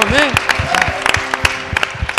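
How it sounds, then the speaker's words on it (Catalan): Studio audience applause for both teams on the Catalan TV quiz show I Tu Que Saps: a steady patter of clapping with sharp hand strikes, mixed with voices cheering and talking over it. "De moment, emporteu-se este aplaudiment de tot l'equip."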